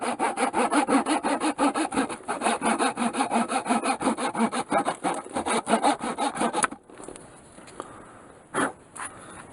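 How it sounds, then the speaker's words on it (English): Handsaw cutting the wooden knobs off the ends of a turned whirligig lure blank, loud close rhythmic back-and-forth strokes for several seconds, then stopping, followed by a few faint knocks and a brief scrape. "Now it's time to cut off the knobs on either end."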